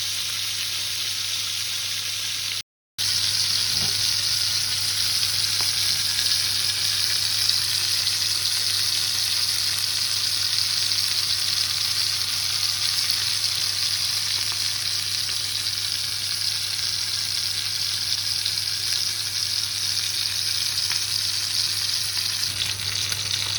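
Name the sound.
pork chops frying in a frying pan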